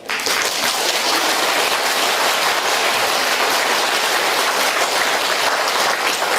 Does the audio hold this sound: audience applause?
yes